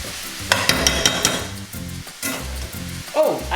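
Onions sizzle in a hot pan while a utensil scrapes and stirs them in repeated strokes, close and fairly loud, with no one talking.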